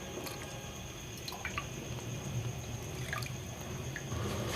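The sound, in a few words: pouring two cups of milk into masala chai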